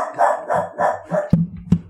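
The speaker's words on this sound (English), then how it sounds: "My dog is for the first time really sitting on the couch and barking" A dog sitting on a couch barks four times in a loud, close, steady rhythm, followed by two sharp knocks.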